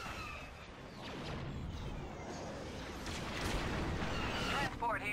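Sustained rumbling cover fire and explosions from the Star Wars Empire at War remake space battle, dense and continuous with whooshing bursts, under radio-style voices.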